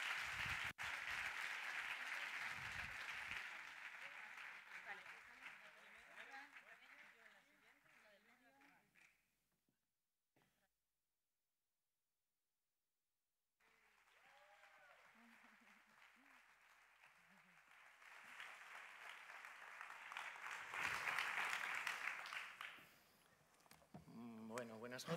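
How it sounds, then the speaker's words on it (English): An audience gives a sustained, loud round of applause welcoming the Spanish duo Chico y Chica at a book presentation event, fading out and then resuming as a second strong wave of clapping. "we'll welcome them with a strong round of applause"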